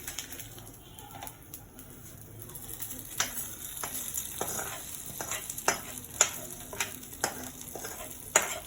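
Hot tempering poured into drumstick leaf (murungaikeerai) chutney crackles and sizzles in a steady low bed, with sharper pops and spoon clicks growing more frequent toward the end; no voices.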